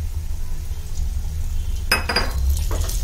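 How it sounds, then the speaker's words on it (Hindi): Spoon stirring ghee into a besan mixture for barfi in a metal pan, a soft quiet scraping that gives way to a few sharp clinks and scrapes of metal near the end, with no voices. "अब इसको अच्छे से मिक्स कर दीजिए ताकि पूरे बेसन में घी इक्वली मिक्स।"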